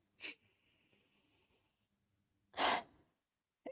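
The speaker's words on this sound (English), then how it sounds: "we want to take a deep breath in" A deep breath drawn in during a calm, reflective moment, heard as a close breathy inhale followed after a pause by a louder, fuller breath, with no talking.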